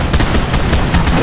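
Rapid bursts of automatic gunfire in the battle royale game PUBG, loud and close, a dense continuous rattle of shots with no talk over it.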